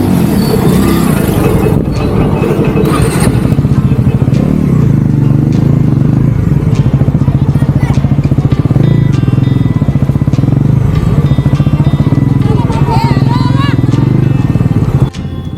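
A Bajaj Pulsar NS400Z motorcycle rides slowly into a busy market to find parking, its engine humming steadily up close with slight throttle changes and road clatter, wind noise over the mic.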